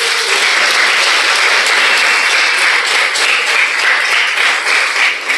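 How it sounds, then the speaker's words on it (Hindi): A church congregation applauds loudly and steadily during a Hindi sermon, a dense wash of many hands clapping at once, sustained without pause. "क्यों ना प्रभु यीशु मसीह के लिए जोरदार तरीके से तालियां बजाएं।"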